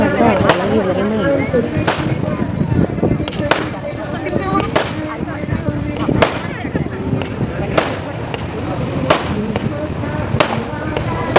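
Sharp firecracker bangs burst at irregular intervals over a busy, noisy crowd at a church feast procession, with voices talking throughout.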